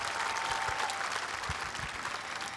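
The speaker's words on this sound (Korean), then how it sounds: "다시 한번 뜨거운 박수 부탁드리겠습니다" An audience at a memorial ceremony for a former president applauds steadily, a dense wash of clapping from a large crowd heard at a distance and sustained throughout.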